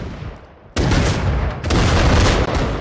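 Dense bursts of rapid video game gunfire from a multiplayer shooter, loud and near, cutting in abruptly after a quieter stretch and continuing as sustained fusillades with a brief break partway through.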